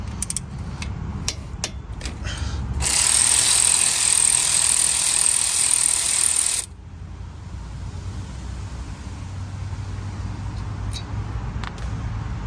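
A power tool, likely an impact wrench, removes 14mm brake caliper bolts on a Honda Accord during a front brake job, giving a loud sustained burst of several seconds between softer clicks and mechanical handling noises.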